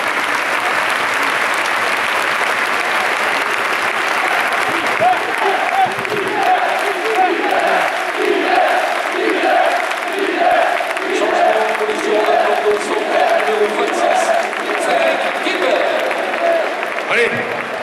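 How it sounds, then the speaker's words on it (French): Loud, continuous applause from a large crowd filling the whole stretch, with voices shouting and murmuring through it. "des applaudissements pour un des gars"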